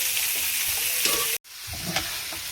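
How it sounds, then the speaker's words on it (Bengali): Mixed vegetables sizzle and fry in a pan with a steady hiss, broken by a brief cut to silence before the frying resumes with light stirring. "সবজিটাকে ভালো করে ভেজে নিয়েছি"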